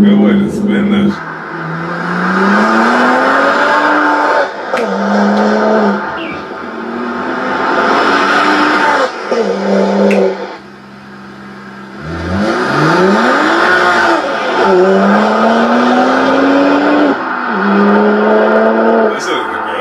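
BMW 1M with an N54 engine accelerating hard through the gears, rising engine pulls with brief tire squeal from wheelspin, close and loud, with a short lift between pulls and someone talking over it.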